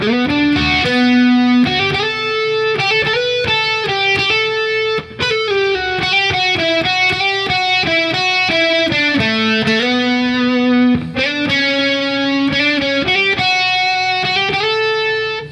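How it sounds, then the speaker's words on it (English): A distorted electric guitar plays a fast, melodic solo of sustained and quick notes, loud and continuous without any voices. "Let me just play the solo."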